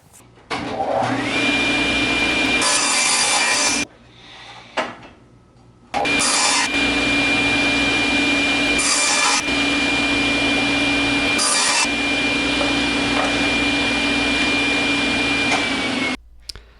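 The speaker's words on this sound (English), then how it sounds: "Now I'm cutting out those rough blanks that I just made up and getting them closer to the final shape." A power saw cuts rough blanks out of 1/2-inch plywood, loud steady whining and rasping in two long runs separated by a brief pause with small knocks, with a shop vacuum running alongside.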